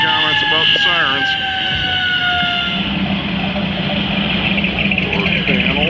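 A siren wails with rising and falling tones over loud, steady traffic rumble, with a vehicle passing close by.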